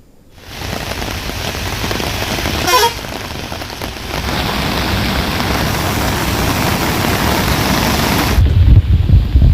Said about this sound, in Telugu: హైదరాబాద్ లో వర్షం మొదలైంది.